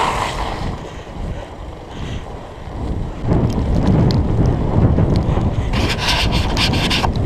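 A Surly Moonlander fat bike rides through a small creek crossing at night as rain begins. Rushing water and tire churn swell louder halfway through, over gusty wind noise on the microphone.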